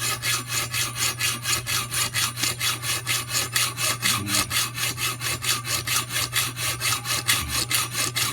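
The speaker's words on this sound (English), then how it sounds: "I'm going to use the hacksaw for the rest of that." A hacksaw cuts with steady, evenly paced strokes, a rhythmic rasping back-and-forth close up that stays loud and regular all the way through.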